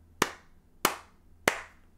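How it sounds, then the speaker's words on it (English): Three evenly spaced sharp claps by a group keeping a song's beat in a quiet room, each crisp and close with a short decay. "Can you guys clap this song from beginning to end with me?"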